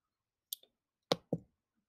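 Three crisp computer mouse clicks, close and fairly quiet, spaced about half a second apart in an otherwise silent room while building a web page portfolio.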